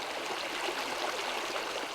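A stream running through cattle pastures gives a steady, soft rushing and trickling of water, even and unbroken throughout, heard close and alone.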